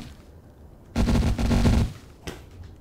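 A short burst of rapid gunfire plays in the video game Atom RPG, followed by a single fainter shot a moment later.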